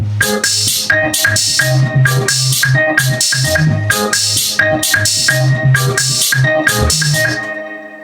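A deep house groove with a thumping low bass line and bright plucked melodic ornaments repeating in a steady rhythm, loud and continuous, fading slightly at the end.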